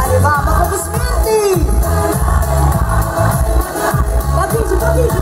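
Audience applause at a graduation concert, a steady loud wash of clapping with crowd noise and occasional shouts, heard with faint voices and music underneath throughout.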